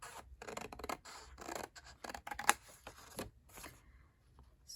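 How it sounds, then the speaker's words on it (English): Scissors trim white areas off paper for a vintage traveler's notebook, making a series of close, crisp snips and rustles of the sheet in uneven bursts, with no voices. "what I want to do is trim off some of the white areas that I have on here"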